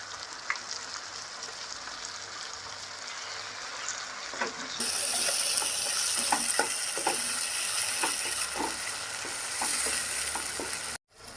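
Ground masala paste hits a hot pan for a crab curry and sizzles loudly and continuously from about the midpoint, with the close scrape and clatter of stirring over the frying.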